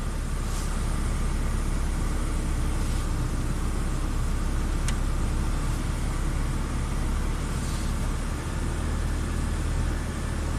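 A Saturn car engine runs under light load with a loud, steady, unbroken drone and a few faint ticks on top, close by and with no talking.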